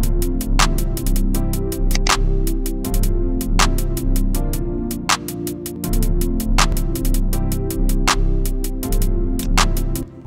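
Claps and snare hits in a thick, heavy melodic rap beat built in FL Studio, loud sharp cracks landing on a steady rhythm over deep bass and dense rapid hi-hats, with no talking.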